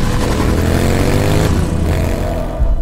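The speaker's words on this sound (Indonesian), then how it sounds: "kembali melanjutkan perjalanan dengan sepeda motor" A motorcycle engine drones steadily and close by as it rides along, with a loud continuous hum and a slight shift in pitch partway through.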